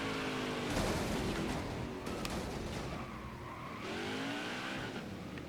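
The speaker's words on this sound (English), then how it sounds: "We got a car spinning on the stretch here." A race car spins and skids in the NASCAR Heat 5 video game at the Brickyard 400, with loud, sustained tire squeals sweeping up and down over a roaring engine, two main bursts of skidding across the stretch.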